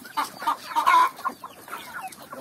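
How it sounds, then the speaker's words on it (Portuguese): Several chickens cluck close by in a rural yard at feeding time, irregular bursts of calls overlapping at moderate loudness with no talking. "Olha o tanto de galinha."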